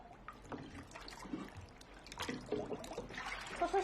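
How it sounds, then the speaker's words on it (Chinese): A child's feet are rubbed and washed in a basin of water, with soft splashing, trickling and dribbling sounds that grow a little busier toward the end, close and fairly quiet. "搓搓小脚丫，搓搓小脚丫，洗一洗。"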